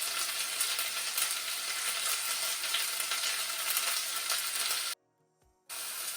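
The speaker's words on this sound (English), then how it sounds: "I added sliced red onions in here, and I've been stirring them for a little bit to ensure that the onions soften." Sliced red onions fry in a hot pan with a loud, steady hiss and crackle as they are stirred, broken by a brief cut of near silence before the sizzle comes back.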